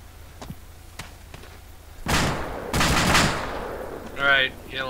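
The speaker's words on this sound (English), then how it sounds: "There's guys shooting up here, I believe." Soldiers exchange gunfire in Arma II: faint scattered clicks first, then two loud, heavy bursts of shots, with a brief voice near the end.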